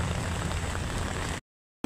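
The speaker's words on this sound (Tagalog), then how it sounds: "Ang lakas ng ulan." Heavy rain pours steadily on a flooded street in a Philippine city, a dense continuous hiss up close, then cutting off abruptly into silence near the end.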